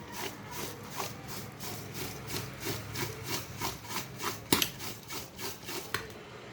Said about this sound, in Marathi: आणि पातेलं हे हलवायचं आहे